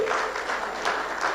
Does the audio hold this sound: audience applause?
yes